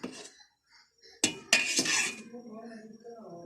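A milk and egg mixture for rasmalai is stirred in a pot, giving a few sharp metallic clinks of spoon on pot and then a soft scraping. The sounds are close and brief, with quiet gaps between them.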